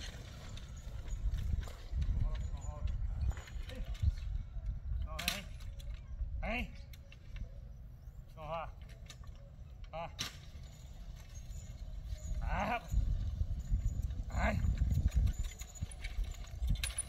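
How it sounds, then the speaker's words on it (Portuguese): A strong trained donkey working a cultivated field, its hooves clip-clopping faintly beside what sounds like a black Volkswagen Beetle, with someone talking over them and occasional clinks and creaks. "Olha só, o jumento possante, de muita força, treinado."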